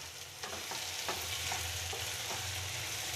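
Aloo muttar curry with tomato, green peas and potato frying in a pan, a steady soft sizzle with a few light stirring scrapes, close and continuous, no talking.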